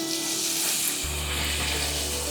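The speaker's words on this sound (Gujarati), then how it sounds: "અને હવે સીધા જ આપણે એને તેલમાં તળવા માટે નાખી દેવાનું છે" Fafda dough made for Dussehra and Diwali fries in slightly overheated oil, puffing up quickly. A steady sizzle hisses throughout, and a deeper bubbling roar swells in partway through and holds.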